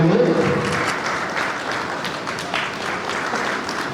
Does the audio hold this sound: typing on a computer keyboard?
no